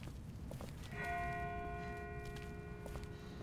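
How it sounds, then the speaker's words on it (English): Distant bell in The Walking Dead video game, one ringing tone that starts after a moment and sustains faintly over a steady low rumble of outdoor ambience. "That's not the same bell as before. This one's further off."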